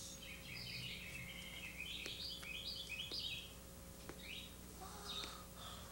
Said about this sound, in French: j'ai jamais entendu un oiseau chanter aussi bien